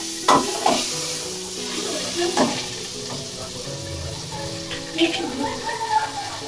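Butter sizzling in a hot frying pan for a white sauce pasta, a steady close hiss broken by a few stirring scrapes and clinks.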